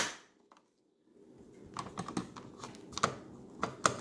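Light taps on the underside of an M249 machine gun handguard as it is refitted, a run of quick, sharp knocks and small clicks after a brief near-silent pause, close by and fairly quiet.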